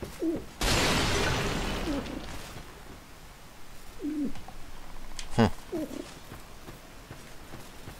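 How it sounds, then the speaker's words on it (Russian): The Ornifex bird boss from Dark Souls 2 Scholar of the First Sin lets out several short croaking calls amid game noise, one loud burst early on, and a few distinct croaks spaced apart later. "Орнифекс зовут птичку, которая квакает."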